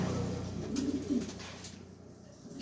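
A pair of red-cheeked pigeons coos close by in a soft, low, throaty burst in the middle, over a steady background murmur; no one talks.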